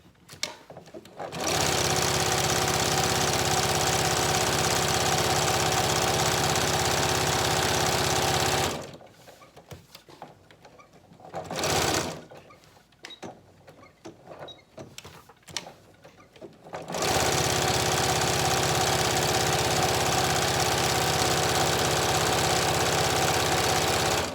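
A sewing machine stitches a fabric scrap bag in two long, loud, steady runs of rapid whirring, with a pause of quieter handling noises and a brief burst of stitching between them.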